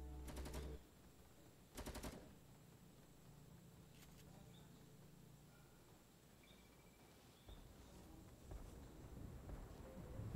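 Two short bursts of rapid automatic gunfire in the video game Fortnite, loud and close in the first two seconds, followed by quieter game ambience with faint distant shots.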